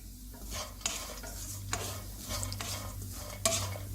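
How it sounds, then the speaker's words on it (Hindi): Spoon stirring milk for sheer khurma in a pot, giving repeated scraping strokes and several sharper clinks of metal against the pot over a low steady hum, with no talk. "इसी तरह से मैं इसको चमचा में हिलाती रही हूँ"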